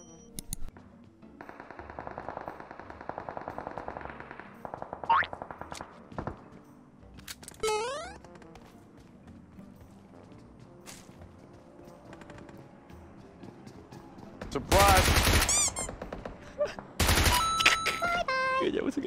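Enemy gunfire in a Tencent shooter game, with bursts of automatic shots and sharp single cracks that come and go, loudest in heavy volleys near the end, while game sounds and occasional talk carry on underneath.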